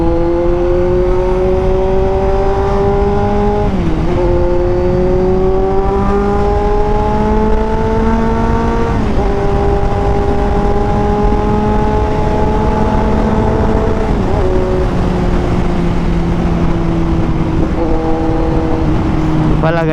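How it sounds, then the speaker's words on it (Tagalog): A Kawasaki Z900 motorcycle revs up through clutchless upshifts. The engine note climbs steadily, then drops sharply at each of four quick gear changes in a continuous, loud ride. "clutchless shifting"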